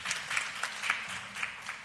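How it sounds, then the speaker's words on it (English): Applause from a press-conference audience of the Education Transformation Oversight Committee for speaker Dr. Morrison Leon: steady, moderately loud clapping from a small crowd, sustained evenly throughout with no talk over it. "Give her another round of applause, ladies and gentlemen."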